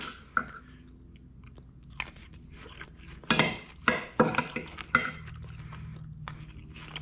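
Close, crisp crunching of a fried Thai omelette (khai jiaow) with pork being chewed, in several uneven bursts with soft cutlery and dish clinks between bites and no talking.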